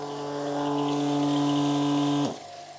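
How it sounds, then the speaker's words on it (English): Small vacuum pumps running while a timber door panel is ply moulded, giving a steady electric hum with a tonal buzz that cuts off abruptly near the end, leaving a faint residual drone. "little pumps, as strong as they are, they don't move great volume, but they are very strong and move small amounts"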